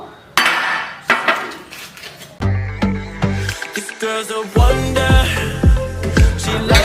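Gram flour being measured by the cup in a home kitchen, with metal cups and dishes clinking and clattering repeatedly, several bright ringing knocks close by.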